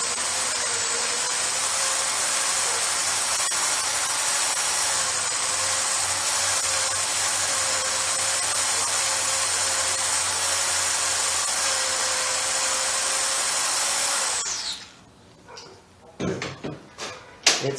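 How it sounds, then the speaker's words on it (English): Steady whine of a drill boring a hole in metal with a number 6 bit, running continuously for about fourteen seconds before stopping, followed by a few clunks and knocks of handling. "So I'm going to proceed to drill it out with a number 6 and then tap it with a 1/4-20."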